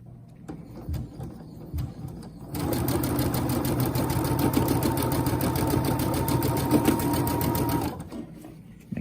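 A sewing machine runs a standard stitch along a zipper's teeth, starting after a few faint handling sounds and whirring steadily and loudly for about five seconds before stopping.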